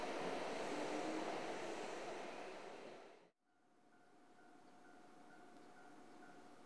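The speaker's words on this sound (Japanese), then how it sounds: "2番乗り場から電車が発車します。" A Kintetsu train departs platform 2 at Hirahata station in Japan, a loud rushing roar of passing cars that suddenly cuts out, followed by quieter steady hum with a faint tone.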